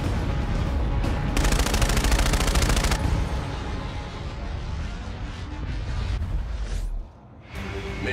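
X-eon assault rifle firing in a video game, dense rapid automatic bursts with a sharp sustained volley early on, loud and close, followed by whooshing effects and a brief drop before more shots.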